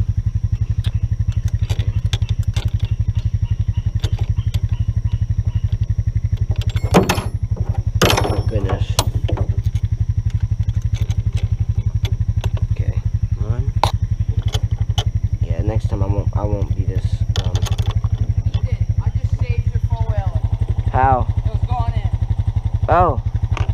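An outboard motor on a flatboat runs with a steady, close, buzzing drone throughout, while people talk over it and occasional clatters break through.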